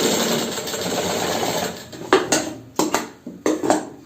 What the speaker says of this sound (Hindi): यहाँ आने के बाद में हम यहाँ किनारे के ऊपर सिलाई लेके आगे आ जाएंगे ऐसे